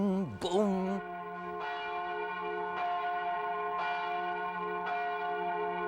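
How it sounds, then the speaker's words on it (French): Church bell in Vaud, modelled on the Marie-Madeleine bell of Lausanne Cathedral, struck about five times at a steady slow pace, each stroke ringing out with a long sustained hum, distant and resonant, after a brief voice at the start. "Derrière, nous avons une cloche."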